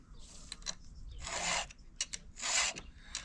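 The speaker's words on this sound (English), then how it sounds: "filing these, it only takes like 3 whacks" A chainsaw chain is sharpened with a hand file, giving short rasping strokes in irregular bursts, two longer scrapes standing out among quicker nearby rasps, with no talking.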